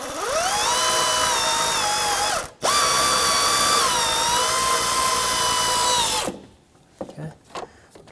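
A ratchet spins a loosened bolt off the intake manifold of a 2009-2019 Ford Flex with a steady, fast clicking that runs for about six seconds with one brief pause, then stops, leaving a few faint clinks of handling.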